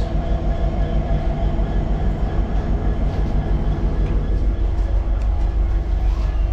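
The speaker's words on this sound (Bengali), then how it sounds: "আর এই হচ্ছে হলদিবাড়ি সুপারফাস্ট দাঁড়িয়ে আছে, দেখতে পাচ্ছেন।" Haldibari Superfast train standing at a railway station: a loud, steady low rumble and hum of the idling train with constant tonal drone, close by and unbroken throughout, no voices.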